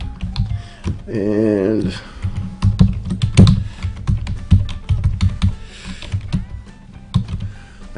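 Quick clicking keystrokes on a computer keyboard as a long password is typed, a close, steady run of taps with a person talking over parts of it.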